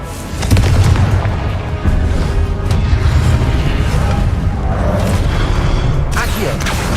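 Repeated Confringo fire-spell explosions in the video game Hogwarts Legacy, heavy booming blasts that roll on without pause, with sharper bursts near the start and near the end over a thick wall of battle noise.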